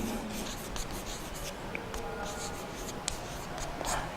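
Writing on a board during a geometry lesson on circles, with quiet, continuous scratching strokes and a few faint taps, close and low in level.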